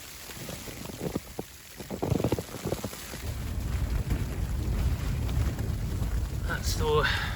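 Wind gusts and roars against a tent at a snowy wild camp in the Scottish Highlands in deep snow and freezing conditions, with a few quieter sounds first, then a swelling, continuous rumble of wind.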